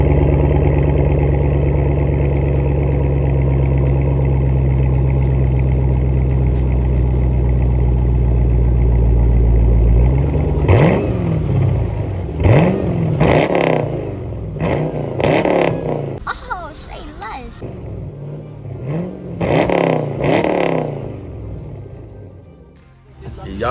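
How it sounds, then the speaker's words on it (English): A car engine in the rain idles with a deep steady rumble, then is blipped through a series of sharp, loud revs that rise and fall repeatedly, with some clatter between them. "Then we're going to do a little revs."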